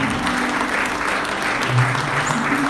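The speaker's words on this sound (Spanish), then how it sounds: "Den un fuerte aplauso al Señor esta mañana" Congregation clapping loudly during a church service, a dense, close burst of applause that holds steady, with some voices mixed in beneath the clapping.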